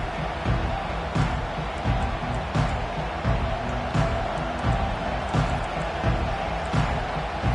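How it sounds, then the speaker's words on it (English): Stadium crowd roaring in the College Football 25 video game, a steady, dense wall of loud crowd noise with scattered thumps and swells running continuously, with no talk over it. "This crowd bringing an ear-splitting welcome to their visitors."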